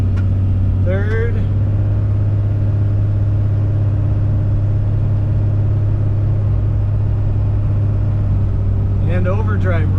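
Steady low diesel drone of a first-generation Cummins truck pulling along, with the engine holding a constant note as it shifts up into overdrive at about 40 mph; a voice speaks briefly near the start and again at the end.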